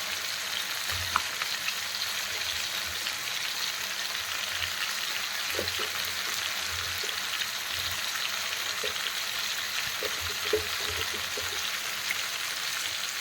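Chicken pieces frying in a pan with onion added produce a continuous close sizzle, dotted with soft crackles and occasional low knocks of stirring, without any talking.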